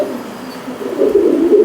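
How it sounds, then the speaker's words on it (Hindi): A Lakha pigeon coos close by in Jammu's old city, a low, soft, rolling call that swells and grows a little louder toward the end, with no talking over it. "ये लाखा कबूतर है"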